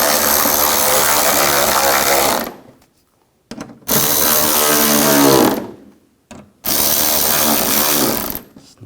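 A power tool tightens bolts on a 2004-2009 Toyota Prius, running in three loud, close bursts of about two seconds each, separated by short silences.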